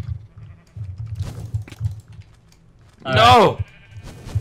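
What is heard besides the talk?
sheep bleating in video game Minecraft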